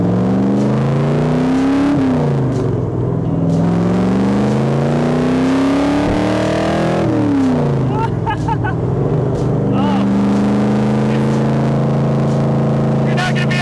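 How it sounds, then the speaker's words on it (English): A classic right-hand drive car accelerating hard, its engine note rising and falling through gear changes under loud rushing wind, with a voice talking over it throughout. "You're not going to be able to hear me talking because of the wind and the gas."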